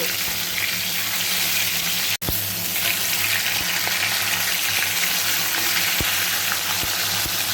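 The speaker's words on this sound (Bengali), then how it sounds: "মাছ ভাজার সময় এইভাবে মাছগুলো দিয়ে একটু ঢাকা চাপা দিয়ে ভাজতে হবে" Fish heads frying in hot oil under a lid: a steady, loud sizzle with a few sharp pops and a brief cut in the sound partway through.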